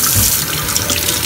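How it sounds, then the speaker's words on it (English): Kitchen tap water pours steadily into a sink as celery stalks are rinsed and scrubbed, a loud, close, continuous splashing rush with no voices. "So now we're gonna wash the celery."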